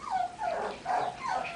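A Morkie puppy whimpers in three rising and falling whines, close and soft, with no talking.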